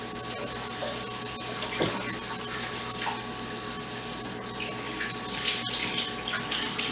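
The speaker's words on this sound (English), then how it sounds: "So, let me wash my hands." Someone washes their hands under a running kitchen tap, a steady close rush of water splashing into the sink with small shifts as the hands move through the stream.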